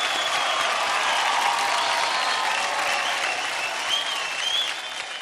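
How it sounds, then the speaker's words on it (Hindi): A studio audience at a televised kids' team dance competition claps loudly and continuously, a dense sustained wash of applause from a large crowd that fades slightly toward the end. "जोरदार तालियों से स्वागत कीजिए"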